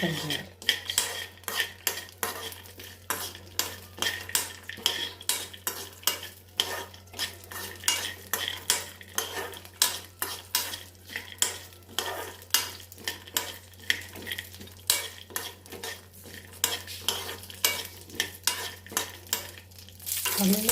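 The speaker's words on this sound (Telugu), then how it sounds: "పచ్చిమిర్చి మంచిగా ఫ్రై అవుతున్నాయి కొద్దిసేపు అయితే మొత్తం ఫ్రై అవుతాయి" Peanuts and green chillies fry in a pan while a utensil stirs and scrapes in a steady, repeated rhythm over a constant soft sizzle, close and with no talking.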